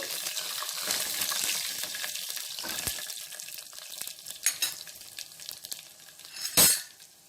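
Crushed garlic and torn dried red chillies fry in a pan with a moderate sizzle that fades over several seconds, marked by a few stirring scrapes and a sharp metallic clink near the end.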